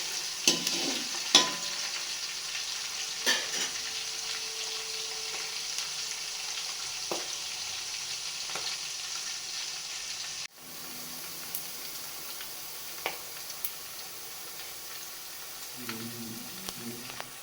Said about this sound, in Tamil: பாருங்கள், வெங்காயம் வதங்கி வந்துருக்குது.